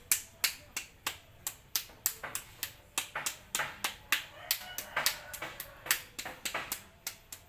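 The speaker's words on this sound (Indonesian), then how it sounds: "Kemudian bisa kita tepuk-tepukan di sebelah sini." Rapid, light patting on the sole of a foot during a fitness massage: around thirty sharp, close slaps in an uneven steady rhythm, with no talking.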